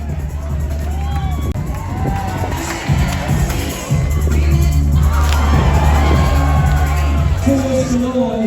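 Crowd at a poolside belly flop contest on a cruise ship sea day, heard as loud mixed cheering, whoops and shouting with a splash-like bang, under close voices.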